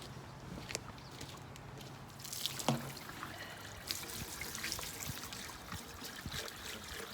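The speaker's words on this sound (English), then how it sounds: "I've got my soapy water. I'm gonna dump down the sink." Soapy water is poured into an RV sink and runs down the drain, a steady close trickle and splash with a brief louder gush partway through.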